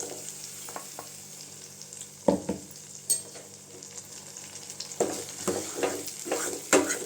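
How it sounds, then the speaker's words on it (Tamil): Ground tomato sautés with onion and garlic in a pan for a garlic curry. A close frying sizzle is broken by bursts of vigorous stirring and scraping that grow busier toward the end, with no talking. "தக்காளி அரைச்சி சேர்த்துக்கிறேங்க."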